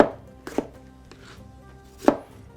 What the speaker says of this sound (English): Exactly the same thing with our bell pepper. I'm just going to cut off a chunk of it,